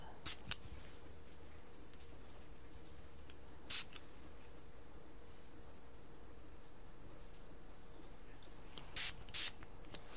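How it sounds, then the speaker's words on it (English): A spray bottle filled with vodka and lavender gives short pump bursts of hissing mist, one early, one near the middle and a quick pair near the end, close and crisp over a quiet room hiss. "Spray it a couple times."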